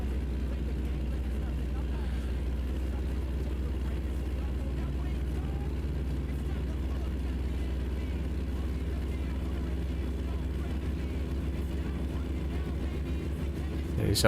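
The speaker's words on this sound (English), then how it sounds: "This old truck's a bit of a throaty beast." The old truck in American Truck Simulator rumbles with a steady, deep, throaty engine drone that holds constant and close throughout, with only a slight rise at the very end.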